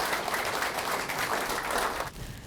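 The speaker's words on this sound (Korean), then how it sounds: "큰 박수 부탁드리겠습니다" An audience at a Democratic Party primary candidates' speech event for Yongin mayor applauds in a dense, steady burst for about two seconds before it abruptly drops away.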